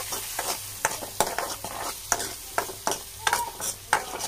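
Pasta seasoned with salt, chilli powder, turmeric and coriander powder is stir-fried in a pan, with a steady sizzle broken by repeated sharp scraping strokes of a spoon every half second or so, close and unaccompanied by voices.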